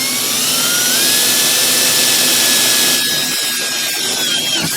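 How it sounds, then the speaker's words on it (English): A power drill whines loudly and steadily while boring a hole for a flag pole, its pitch holding level before the motor eases and slows near the end, close and without speech. "let's get this first hole drilled"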